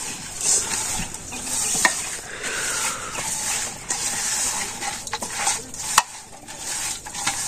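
Chilli powder, turmeric and oil sizzle in a pan for a village-style chicken curry, a steady loud hiss with scattered clinks and scrapes of stirring throughout.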